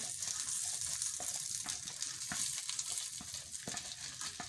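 Dried fenugreek leaves fry lightly in a pan of oil for a Punjabi fried fish recipe, giving a steady close hiss with a few soft stirring taps.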